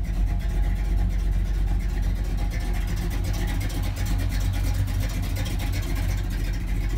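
A 1963 Mercury Comet S22 two-door hardtop runs steadily for several seconds, its engine giving a continuous low rumble at a constant level with no voices.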